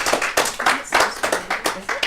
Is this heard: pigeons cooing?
no